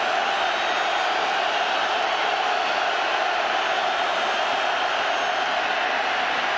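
A big stadium crowd roars steadily throughout a 2001 college football game between Stanford and Oregon, loud and unbroken, with a dense wash of cheering and no break in the noise.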